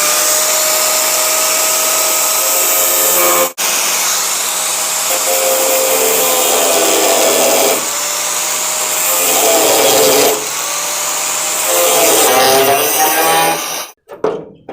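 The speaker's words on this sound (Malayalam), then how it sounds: "അപ്പോൾ ആദ്യം തന്നെ ഈ ക്ലാമ്പ് കട്ട് ചെയ്ത് മാറ്റാം." A power cutter slices off a clamp on a Toyota Qualis, giving a loud, continuous high whine that shifts in pitch as it bites. It cuts out briefly once and stops abruptly near the end.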